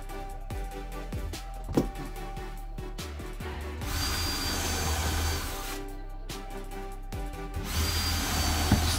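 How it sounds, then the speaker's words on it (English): A power drill runs in short whirring bursts, pre-drilling and countersinking screw holes in wood for a bench seat bed in a VW Crafter camper van, with clicks and knocks between the runs. "pre-drilled and countersunk each hole, and then this stops the wood from splitting"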